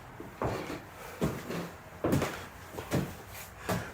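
Old wooden door in a run-down house awaiting renovation, opened with several soft knocks and creaks spread across a few seconds, fairly close, with no talking.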